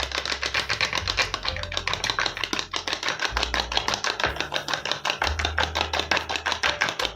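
Eggs with a pinch of salt and black pepper beaten briskly in a bowl for scrambled eggs, a fast, steady clicking whisk rhythm that runs close and clear throughout, with no talking.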